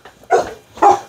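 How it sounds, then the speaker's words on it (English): Dogs barking in two separate bursts a short way off, with no talk over them, heard during a box opening for magnet fishing gear. "I hear dogs. I'm not sure if you hear dogs, but I hear dogs. I hear three dogs."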